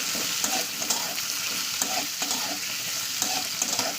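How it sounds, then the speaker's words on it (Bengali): Potatoes stirred and fried in hot oil give a continuous, close, dense sizzle, punctuated by regular scraping strokes of the spoon through the pan. "আলুটা আমি ভালো করে তেলের সঙ্গে মিশিয়ে নেবো"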